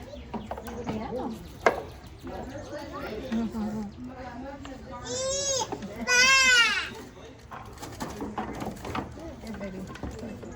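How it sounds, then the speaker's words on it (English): Sheep bleat at a petting farm, with a couple of wavering bleats rising over nearby chatter, children's voices and adults talking. "Got some sheep over here."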